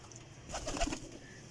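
Pigeons coo in a brief, soft burst of low, throaty calls at close range, with quiet surroundings before and after.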